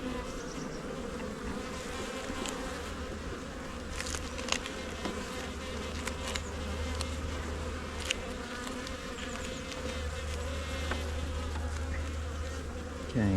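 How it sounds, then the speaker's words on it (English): Honey bees buzz continuously around an open hive during an inspection after swarming, a close, dense hum with occasional louder passes of individual bees. "A couple of bees feeding there."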